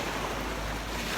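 Ocean surf at a quiet little beach spot with shallow water, heard as a steady broad wash of waves and breeze with no distinct breaks and no talk.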